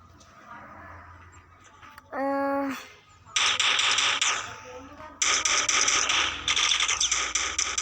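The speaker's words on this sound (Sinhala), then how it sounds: "එයාලත් අපිට වෙඩි තියනවා බලන්න." Enemy fire in a shooting video game comes in two long, loud rattling bursts after a brief tonal in-game sound, set against quieter background noise.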